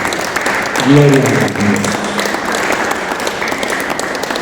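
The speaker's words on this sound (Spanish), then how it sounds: "Den un aplauso al Señor" A church congregation applauding in praise of the Lord, steady clapping under a speaker's voice, with a short phrase spoken aloud near the start.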